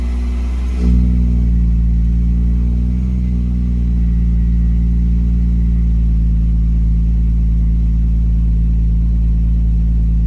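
A Nissan Skyline R33 engine revs once, a quick rise in pitch followed by a steady, loud, close idle rumble.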